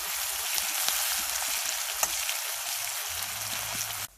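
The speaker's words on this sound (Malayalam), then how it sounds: "പിന്നെ പച്ചമുളക് ചതച്ചതും നമുക്കിതിലേക്ക് ഇടാം. ഇതിൻ്റെ പച്ചമണം മാറുന്ന വരെ നമുക്ക് ഇത് വഴറ്റാം." Crushed green chilies sizzle steadily in a hot pan while being sautéed for pepper fried chicken, a close, even frying hiss throughout with faint stirring knocks.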